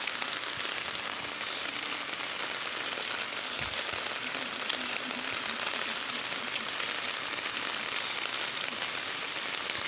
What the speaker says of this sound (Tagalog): It's been raining in the evening.